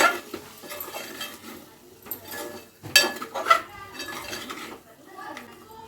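Chicken being mixed with squeezed lemon juice in a pot while cooking, heard as irregular clattering of a spoon against the pot, with scraping and a few louder knocks.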